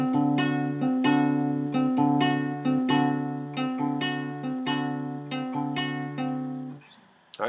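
Acoustic guitar strings plucked in a repeating fingerpicked pattern for the chorus chord of Bowerbirds' "My Oldest Memory", with notes struck together at the start and end, clear, close and steady, alone with no voices.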